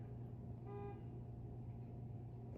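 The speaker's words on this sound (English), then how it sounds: "apparently we have somebody honking outside for my neighbor" A car horn honking outside, one short muffled toot rising briefly above a low steady background hum.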